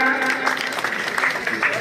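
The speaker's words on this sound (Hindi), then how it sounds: "जोरदार तालियां।" Applause from a crowd at an education department ceremony, a steady wash of clapping heard together with voices.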